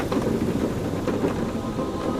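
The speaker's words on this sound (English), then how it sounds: "Outside, the storm raged." Thunderstorm in the VR game A Fisherman's Tale: steady heavy rain with rolling thunder rumbles throughout, loud and close, no voices.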